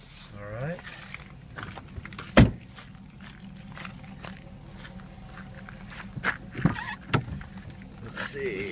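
A car's rear passenger-side power window motor whirs as the glass runs, with footsteps, a few knocks and a loud thump in the cabin, and a person talking nearby.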